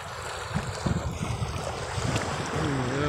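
A small wooden outrigger boat (bangka) out on clear water, with steady wind buffeting the microphone, lapping water against the hull, and a low engine drone, all fairly loud and continuous with no talking.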